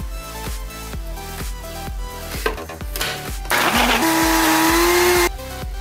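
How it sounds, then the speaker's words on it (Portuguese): Rhythmic clunks and thumps give way to a loud, high whirring blender motor mixing a milk smoothie, running for over a second before stopping. "Então agora eu vou colocar todos os ingredientes aqui no liquidificador."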